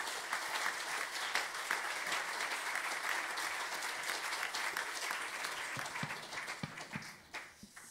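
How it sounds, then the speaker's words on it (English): Audience applause at a jazz festival show fills the room steadily, then thins to a few scattered claps and fades out near the end. "So round of applause for all those guys"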